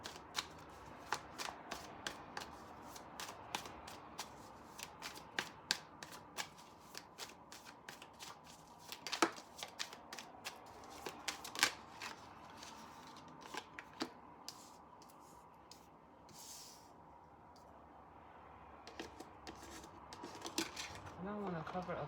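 A deck of tarot cards is shuffled again and again in quick, crisp riffles and slides, close by but soft, with a voice talking now and then.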